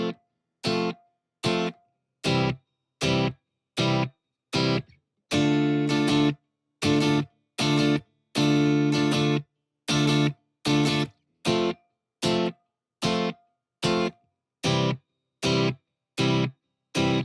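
Electric guitar playing the chorus of a song with two new chords, heard alone as crisp, rhythmic strummed chord hits and short sustained chords with regular gaps between them.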